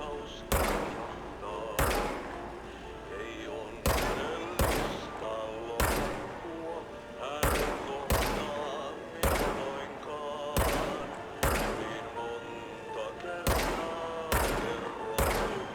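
Weapon fire in the video game Control: about a dozen loud, sharp gunshots spaced irregularly, with a soft tonal hum lingering between shots.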